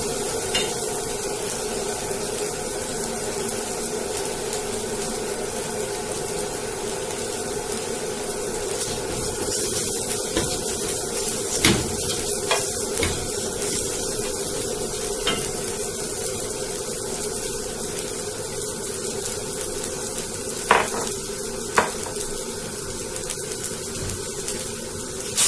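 Koshari ingredients sautéing in a single pot: steady hiss of frying with repeated scraping and stirring strokes and occasional sharp knocks of a spoon against the pot, continuous and close, no talking.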